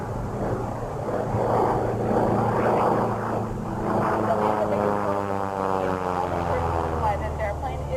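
A Gee Bee R-2 racing airplane drones overhead with a rough propeller-engine roar, swelling as it passes and then fading away with a falling pitch, loud and continuous.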